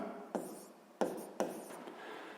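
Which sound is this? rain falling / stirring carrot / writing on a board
writing on a board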